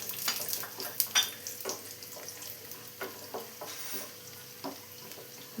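Cashews and raisins frying in ghee in a pan for Onam broken wheat payasam, a soft continuous sizzle broken by scattered clicks and scrapes of stirring, fairly quiet and close.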